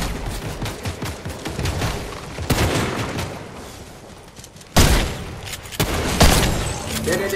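Rapid gunfire in the Fortnite video game, bursts of shots and booms through most of the stretch with loud peaks near the middle and end, while players talk and shout over it.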